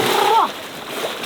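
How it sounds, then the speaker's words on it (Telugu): A single splash as something dives into a swimming pool filled with yellow-coloured water for Holi, a short burst of water noise that fades quickly into a quieter wet tail. "ఎల్లో కలర్ స్విమ్మింగ్ పూల్ లో ఒక డైవ్"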